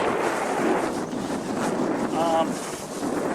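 Strong wind buffets and roars across the microphone in a constant rumbling rush, with a faint tonal whine in the background.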